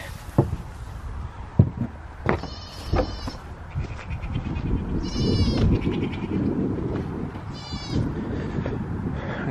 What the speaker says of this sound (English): we better get the goats some hay.